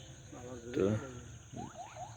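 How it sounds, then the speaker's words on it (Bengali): Crickets chirp in a village paddy field at sunset, a faint, steady high trill running through the clip, with a voice speaking briefly over it and a few rising bird-like calls near the end. "সেই গ্রামের সেই ঝিঝি পোকার শব্দ আমরা শুনতে পাচ্ছি"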